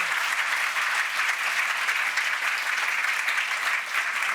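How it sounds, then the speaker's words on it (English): Sustained applause from a crowd at an entrepreneurs' event, steady and dense clapping throughout with no breaks, loud and close. "let's give them all another round of applause"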